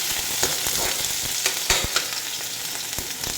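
Garlic and onion fry in a hot pan with a steady, dense sizzle, punctuated by sharp scraping clicks of stirring at irregular intervals, close and fairly loud.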